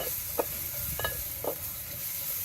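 Spices and turmeric for a mutton curry are stirred in a handi over a wood-fired chulha, giving three or four distinct scraping strokes over a faint, steady sizzle.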